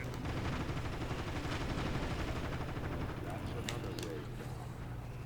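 Heavy gunfire from the video game Transformers: War for Cybertron rattles on in a dense, loud barrage, with voices talking underneath.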